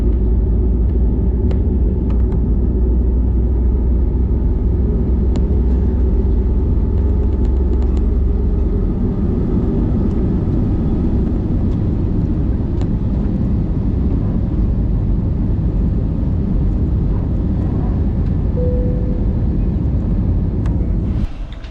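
An airliner takes off from Jamaica bound for Fort Lauderdale, heard from inside the cabin as a loud, continuous engine roar and deep rumble that eases slightly partway through.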